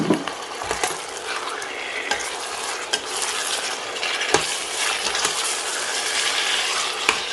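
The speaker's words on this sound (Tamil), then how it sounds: "க்ளீன் பண்ணி வச்சுருக்க சிக்கனை இதோட சேர்த்து லோ ஃப்ளேமில் வச்சு ஒரு 5 நிமிஷம் அப்படியே ரோஸ்ட் பண்ணிக்கோங்க" Chicken roasting over a low flame in a pan for flavoured rice and chicken gravy, a steady close sizzle with scraping stirs and occasional sharp clinks of a utensil against the pan, no voices.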